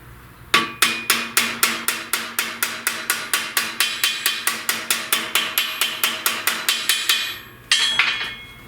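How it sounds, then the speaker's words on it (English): A hammer strikes a steel patch panel for a 1969 Chevrolet C10 fender in quick, steady blows, about thirty sharp metallic hits in a close, even rhythm after a brief pause. "work it some more with a hammer"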